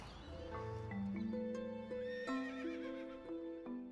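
Wild Australian brumby horses whinny and neigh loudly in repeated rising and falling calls, with faint hoof sounds beneath.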